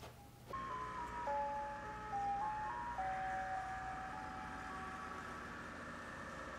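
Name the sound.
ice cream truck music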